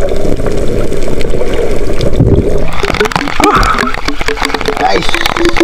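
Heavy rain pours during a fishing trip near Gasan, Marinduque, as a loud, steady wash of water fills the whole stretch. Someone talks over it.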